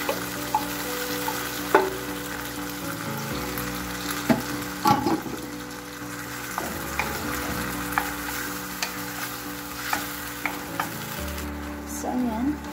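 Sardines go into a pan of sautéing mung beans with tomato, a steady close sizzle of frying broken by the scrape and clatter of a spoon stirring.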